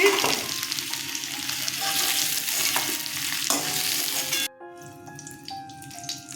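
Potatoes fry in hot mustard oil with a loud, dense sizzle and scraping stir strokes. After about four seconds the frying cuts to a much quieter background with faint clinks.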